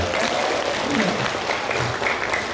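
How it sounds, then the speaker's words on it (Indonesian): Applause from an audience at a motivational seminar, a steady wash of clapping that holds at a moderate level for a couple of seconds, with a faint murmur of voices beneath it. "tepuk tangan buat Anda semua"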